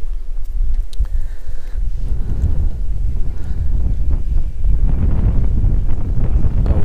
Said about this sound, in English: there's a bit of a wind blowing into my face at the moment